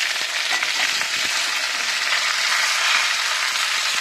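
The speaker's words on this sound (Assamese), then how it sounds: "ইয়াৰ পিছত মই এই যে মই কাটি লৈছিলোঁ ডাঠা আৰু আলু" Dhatha and potato fry in a pan with goat meat fat and spices, giving a loud, continuous close sizzle with crackling throughout.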